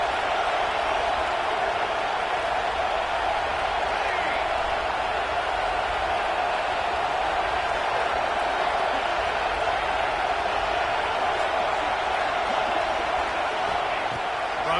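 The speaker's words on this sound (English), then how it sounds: "The roar of the crowd trying to fuel this defense to keep them pinned in their own end." A steady stadium crowd roars at a College Football 26 video game, a broad, constant wash of cheering noise that holds at an even level for the whole stretch with no pauses.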